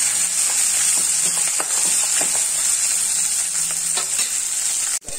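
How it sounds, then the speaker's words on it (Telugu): Thin-sliced raw coconut pieces fry in a pan, giving a steady close sizzle with scattered crackles and light stirring clicks throughout, ending in a brief abrupt drop. "సన్నగా కట్ చేసుకొని వేసుకుంటున్నాను ఇది పచ్చి కొబ్బరి వేసాక ఎక్కువ సేపు ఫ్రై చేయక్కర్లేదు"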